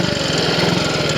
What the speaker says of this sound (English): The engine's spinning more slowly than I usually would have it coming down there.